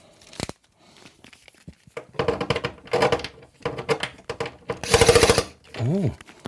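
A power screwdriver drives screws into a Gibson G101 combo organ under repair, its motor whirring in several short bursts of rising and falling pitch, with pauses and clicks between runs.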